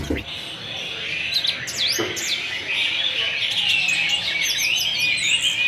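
A white-rumped shama, a murai with a 21-tail, sings bright, varied whistles and chirps nearly without pause, close and loud against a steady background hum.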